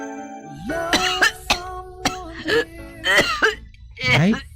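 A person coughs several times in short harsh bursts, mixed with throat clearing, over a sustained background tone from a drama scene, with voices speaking around the coughs.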